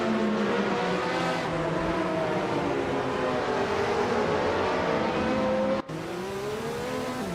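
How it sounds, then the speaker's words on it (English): A Lancia LC1 race car engine in a racing video game, a loud, continuous high-revving drone with rising and falling pitch through gear changes and a brief dropout near the end. "Chubby Hodes is driving a Lancia LC1"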